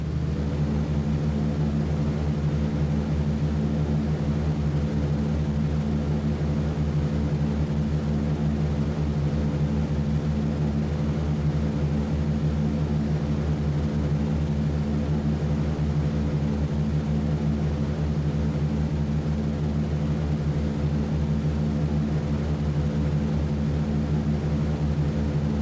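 Four-engine B-17 bomber from the game B-17 The Mighty 8th roaring at takeoff power, a steady loud droning hum of piston engines and propellers holding for the whole stretch with no voices.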